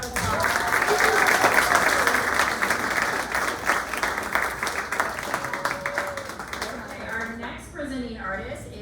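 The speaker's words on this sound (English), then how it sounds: "Let's give them another round of applause." Dinner audience at a MicroGrant event bursts into sustained applause, dense clapping from many hands that thins toward the end, with voices and scattered cheers mixed underneath.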